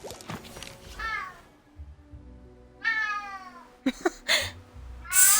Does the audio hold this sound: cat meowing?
yes